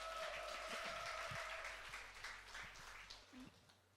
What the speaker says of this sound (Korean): 나올 때 박수 부탁드립니다.